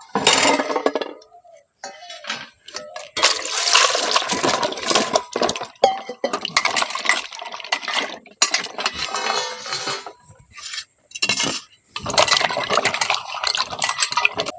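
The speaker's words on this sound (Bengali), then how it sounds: "এখন পটলগুলোকে আমি ভালো করে ধুয়ে নেবো" Pointed gourds (potol) rinsed by hand in a bowl of water, giving close, irregular splashes, clinks and knocks in uneven bursts with brief pauses between, with no talking.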